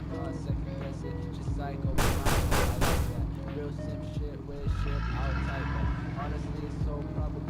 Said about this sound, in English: Sounded like someone was shooting at me.